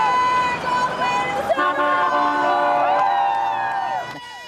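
Crowds of fans cheering the San Diego Chargers along the road to the airport, with loud cheers, shouts and car horns honking as the motorcade passes close by.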